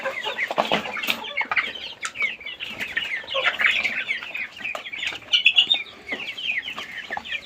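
Several chickens on a small home poultry farm cluck and squawk continuously at close range, with busy overlapping calls and occasional wing flaps throughout.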